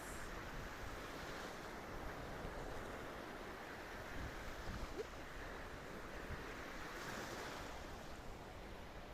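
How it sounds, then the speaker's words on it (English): Ocean surf rolls and breaks on a beach in St. Pete in a continuous, wide wash of noise, with wind buffeting the microphone throughout. "These waves are huge."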